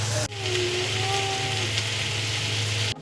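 Vegetables frying in a pan give a steady, close sizzle with a faint tonal whine underneath, starting and stopping abruptly.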